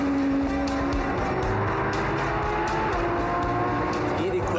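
Porsche 911 GT3 RS engine droning steadily and loud throughout while driving, with rising and falling tonal harmonics as revs shift.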